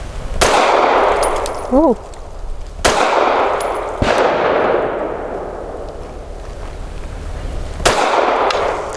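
Gunshots from a BUL Armory Axe C Tomahawk pistol at a shooting range, four loud sharp reports spaced a couple of seconds apart, each with a ringing decay, heard close with a brief voice between shots.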